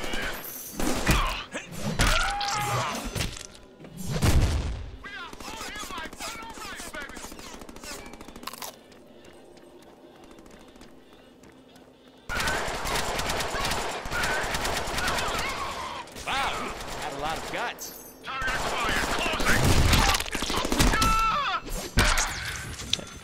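Gunfire and heavy thuds in the Deadpool video game, loud bursts of shots and impacts that drop away to a quieter stretch midway, then return strongly.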